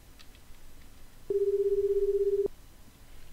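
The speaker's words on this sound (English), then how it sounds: "The phone's ringing." A telephone rings in the video game Killer Bear, a steady electronic buzzing tone lasting about a second over low background noise.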